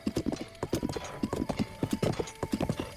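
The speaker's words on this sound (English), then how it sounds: "Let's just ride Oreo through here" Horse hooves gallop in a rapid, even clip-clop rhythm while riding across open ground in the video game The Legend of Zelda: Breath of the Wild, loud and close, with a brief whinny and a faint steady tone underneath.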